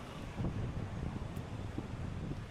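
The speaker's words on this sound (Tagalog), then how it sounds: "Sobrang ang lakas ng hangin." Strong wind buffets the microphone on the Jiaoxi coast in Taiwan, a steady low rumble with gusty swells throughout, heard alone with no voices.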